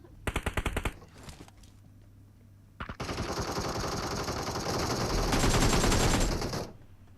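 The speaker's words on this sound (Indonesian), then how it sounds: "Orang nembak, awak nembak loh." Gunfire in the mobile battle royale game PUBG Mobile: a quick rattling automatic burst, a pause, then a long, loud sustained volley of rapid shots ringing for several seconds before cutting off, with no voices over it.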